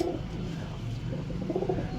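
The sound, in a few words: pigeon cooing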